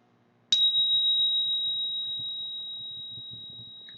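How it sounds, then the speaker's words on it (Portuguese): A single meditation bell is struck once and rings out as a clear, pure sustained tone that slowly fades, with soft low background noise and no talking. "O toque do sino"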